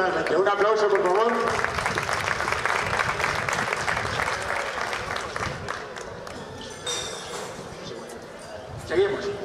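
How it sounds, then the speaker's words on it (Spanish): A crowd applauding at an ancient-world historical reenactment in Villena after a hand-to-hand combat bout, a loud wash of clapping mixed with voices and a sharp metallic clink near the end. "Un aplauso, por favor."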